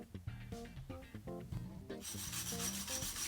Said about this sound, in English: Take a wire brush and get off all the rust and corrosion that's on the hub, that's on the carrier.